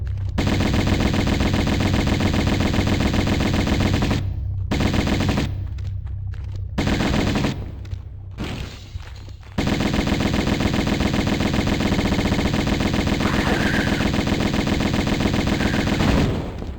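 Sustained automatic Uzi fire in the Tomb Raider video game, dense rapid bursts running almost unbroken for several seconds, with brief gaps between volleys, loud and close with no talking.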